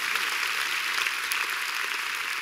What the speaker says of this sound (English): Let's give the Lord a big hand clap, shall we?